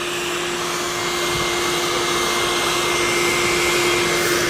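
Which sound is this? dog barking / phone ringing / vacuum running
vacuum running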